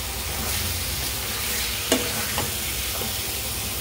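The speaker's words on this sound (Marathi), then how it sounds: "आता यात मी कलेजी हलकीशी परतते." Chicken liver (kaleji) is stirred and sautéing in a pan for a Malvani masala dish, with a steady close sizzle and a few sharp scraping clicks from the spatula.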